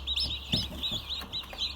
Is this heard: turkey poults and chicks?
yes